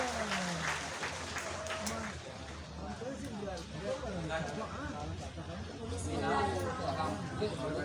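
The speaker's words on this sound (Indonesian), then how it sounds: "Coba tepuk tangan dulu." An audience at a Qur'an memorization graduation ceremony at an Islamic boarding school claps, the steady applause mixed with crowd chatter and voices over a continuous background hum.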